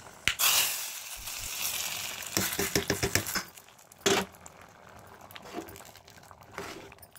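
Masoor lentil dal in a kadai, just topped with a hot tempering, being stirred: a loud sizzling burst, then scraping and clattering stirring strokes with intermittent bubbling and spits.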